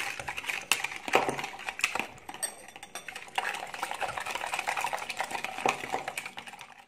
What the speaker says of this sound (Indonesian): Kita aduk sampai gulanya larut